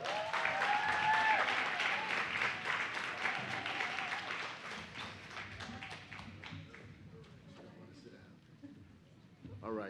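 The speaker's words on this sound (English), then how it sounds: "So please give me a big round of applause and help me welcome to the stage Mayor Roz J. Baraka." Audience applause at a youth summit as the mayor is welcomed to the stage, loud and dense at first, then thinning and fading with some cheering voices mixed in.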